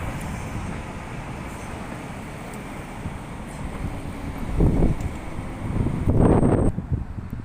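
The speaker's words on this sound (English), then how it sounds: "Right, we've got another train." A Class 331 electric train passes in Salford, a steady rumble under gusty wind noise that swells with louder rushes near the end.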